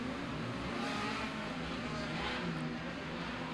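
Race cars lap a circuit with slower lapped traffic nearby, a steady distant engine roar that holds at an even level throughout, with no voices.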